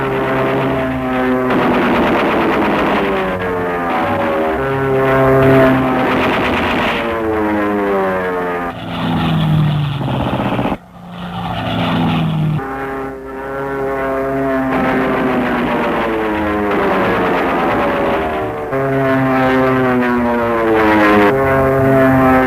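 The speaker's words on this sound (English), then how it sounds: "As the planes peel off to make a run on the target" P-51H Mustang propeller fighter planes peel off for a strafing run on a target, their piston engines droning loudly and continuously with harmonic rising and falling tones, briefly dipping midway before surging again, no talk.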